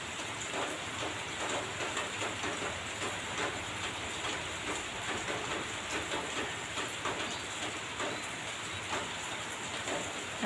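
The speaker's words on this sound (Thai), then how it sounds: "เอางวงไปให้น้ำฝนหยดจากหลังคานะคะ ให้ถูกงวงเขา" Rainwater drips and runs off a roof during heavy rain, a constant close hiss of falling water with faint pattering throughout and no voices.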